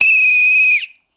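A single sharp whistle blast, loud and steady for most of a second, then cutting off quickly into silence, like a referee-style whistle blown to call for help.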